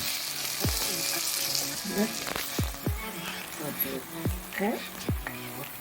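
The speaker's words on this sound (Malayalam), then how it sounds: "നമ്മുടെ മട്ടൻ ബ്രെയിൻ ഇവിടെ കിടന്ന് തിളച്ചുകൊണ്ടിരിക്കുക" Mutton brain frying in a pan gives a steady sizzle, with voices talking over it in short bursts.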